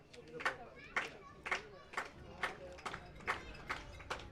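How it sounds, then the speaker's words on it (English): Rhythmic crowd clapping at a Barrie Baycats baseball game, about eight evenly spaced claps roughly half a second apart, moderately loud over a low background murmur. "There's that clapping again."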